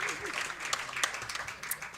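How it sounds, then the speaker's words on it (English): A concert audience at Tribeca Performing Arts Center claps for a jazz vocalist's performance, scattered individual claps standing out over a softer wash of applause, with a voice briefly audible underneath. "a round of applause for you guys who came."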